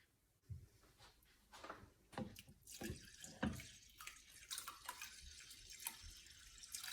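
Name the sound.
draining soaking liquid from rice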